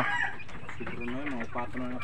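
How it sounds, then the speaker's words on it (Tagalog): A small, roughly four-year-old bantam chicken gives a drawn-out, wavering cluck with a tonal, almost voice-like quality, close and fairly clear above a muffled background. "Yung pinakamaliit na manok natin"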